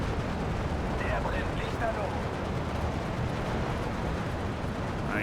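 Continuous dense gunfire and artillery from the Steel Division 2 video game, with machine guns and a Flame Panzer firing on troops in Paris, forming a loud, steady battle roar throughout.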